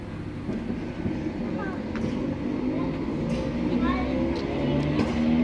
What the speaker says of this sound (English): there is our train going